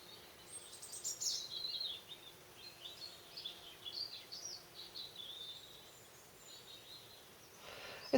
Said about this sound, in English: It's lovely sitting here just listening to the birds and the bees